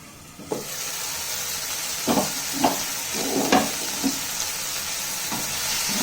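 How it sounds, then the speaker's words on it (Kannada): Tomato masala for kaju curry cooks over a low flame under a closed lid, giving a steady soft sizzle with a few brief pops and bubbling bursts scattered through, fairly close and moderately quiet. "ನೀಟಾಗಿ ಕಾಯಿಸ್ಕೊಂಡ್ಮೇಲೆ ಲಿಡ್ನ ಕ್ಲೋಸ್ ಮಾಡಿಬಿಟ್ಟು 1-2 ರಿಂದ 3 ನಿಮಿಷ ಅದು ಅಲ್ಲೇ ಲೋ ಫ್ಲೇಮಲ್ಲೇ ಒಳಗಡೆನೆ ಟೊಮೆಟೊ ಮೆತ್ತಗಾಗೋವರೆಗೂ ಬಿಡಿ."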